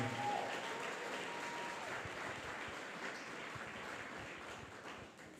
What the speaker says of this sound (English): please just give her a round of applause